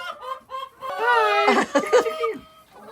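Chickens cluck and squawk in a loud, busy coop on a farm, with overlapping bird calls rising and falling close by. A brief greeting is spoken at the start.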